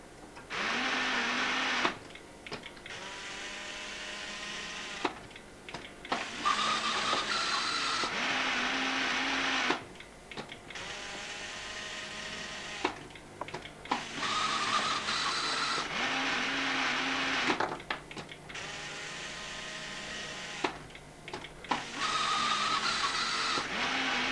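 A fischertechnik model factory machine with a press and drill runs in repeated cycles, whirring and buzzing motor bursts of several seconds separated by brief pauses, steady and close with no talking.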